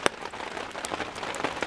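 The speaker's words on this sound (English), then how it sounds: "It is still raining, it's 11 o'clock. The tarp is holding up amazingly well." Rain falls on a tarp at a campsite in Elora Gorge Conservation Area as a close, constant patter with occasional sharper drop hits, and nobody speaks.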